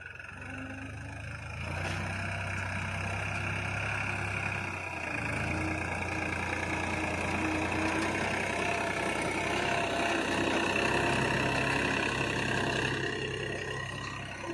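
A New Holland 3600-2 tractor pulls a seed drill while sowing wheat in a field in Madhya Pradesh, its diesel engine droning steadily under light load, close by and continuous with no talk.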